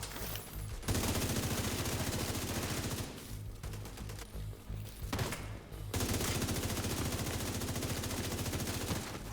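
Shotgun fire in the video game The Division 2 comes as sustained, rapid bursts of loud, close gunshots, broken by two brief pauses before the firing resumes.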